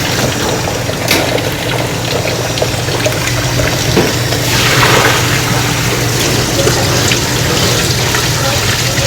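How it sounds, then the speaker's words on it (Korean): Cucumbers being rinsed in water for a soy sauce pickle produce a steady, close, continuous splashing and running-water wash that lasts throughout. "그래서 물에 한번 헹궈줍니다."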